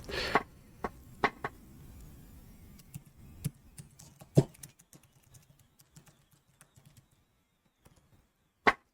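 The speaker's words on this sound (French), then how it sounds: "Bon, j'essaie avec le clavier." Scattered clicks of typing on a computer keyboard, a few sharp louder taps among lighter irregular keystrokes with pauses, close and alone without talk.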